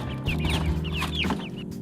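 Several chickens cluck and murmur together inside a transport cage, a close, continuous run of short clucks and low grumbling calls.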